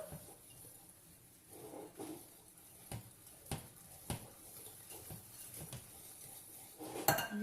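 Cannelé batter being mixed in a bowl, with faint clinks and taps of utensils against the dish at irregular intervals, close but quiet, without talking.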